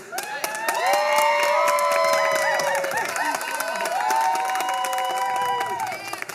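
A TEDx event audience cheers, whoops and applauds loudly and continuously, a dense crowd roar with shouts rising over steady clapping throughout.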